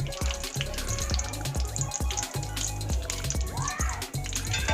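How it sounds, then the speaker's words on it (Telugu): Cashew nuts frying in ghee in a pan while wheat rava halwa is being made, giving a steady close crackling sizzle with small bubbling pops and some faint clatter throughout. "జీడిపప్పును వేసుకుని ఫ్రై చేసుకుందాం"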